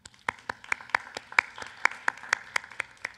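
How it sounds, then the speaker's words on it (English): Scattered, distinct claps sound close by, rhythmic single hand claps from a small audience at a public hearing, evenly spaced with no talk over them. "I would be very happy if you would all give them a round of applause"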